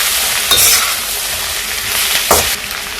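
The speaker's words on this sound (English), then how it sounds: "I'm going to give it a quick mix now." A pan of garlic turmeric fried rice with paprika sizzles loudly while a utensil stirs it, scraping twice in quick bursts over the continuous frying hiss.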